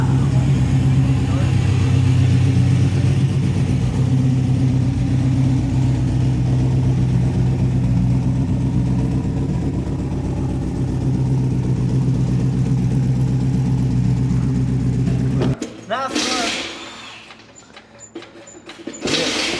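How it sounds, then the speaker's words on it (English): A car engine on a dyno during a full pull, a loud, sustained engine drone that holds for about fifteen seconds before cutting off, followed by a short sharp noise and quieter aftermath. "we're gonna do a dyno pull like this"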